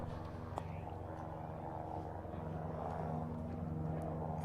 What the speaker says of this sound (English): There's the Garda helicopter.